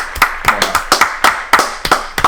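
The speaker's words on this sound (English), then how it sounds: "Round of applause, man." Round of applause from a small group in a podcast studio, close, sharp handclaps in an uneven rhythm, about a dozen loud claps with no talking over them.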